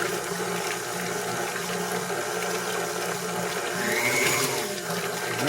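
Heavy cream churning into butter in a kitchen mixer, with buttermilk separating out as the butter forms: a steady wet sloshing and whirring that runs continuously at moderate level, with no talk.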